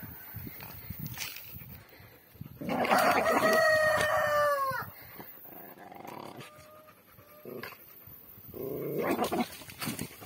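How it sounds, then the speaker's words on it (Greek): A Jack Russell terrier on a farm makes panting and barking sounds close by, while a rooster crows loudly partway through and chickens cluck in the background. "Αυτό είναι Jack Russell σκυλί."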